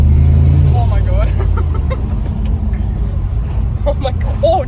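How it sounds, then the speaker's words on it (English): A car passes very close by, its engine rising into a loud, broad rush that then fades into the background, with startled voices speaking over it. "you were close to that car"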